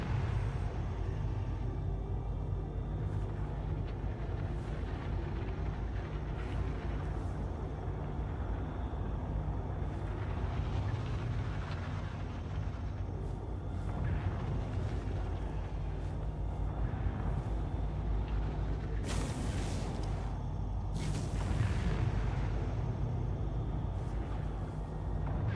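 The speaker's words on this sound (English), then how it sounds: "The engine sounds are very nice, that's for sure." Aegis Redeemer gunship engines in Star Citizen, a low, continuous rumbling drone with a steady hum, broken by a few brief hissing bursts toward the end.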